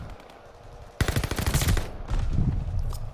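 Rapid automatic gunfire with incendiary rounds in the shooter Call of Duty Vanguard, a dense close burst of shots that sputters into a second, looser volley.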